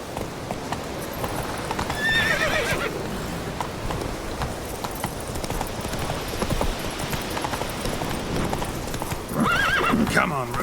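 Roach, a horse in the video game The Witcher 3, gallops with a rapid, continuous clip-clop of hooves and snorting whinnies that rise near the start and end, close and mixed with voices speaking over it.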